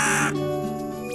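A blue cartoon raven gives a single loud, harsh caw, close and clear, that trails off after about a second.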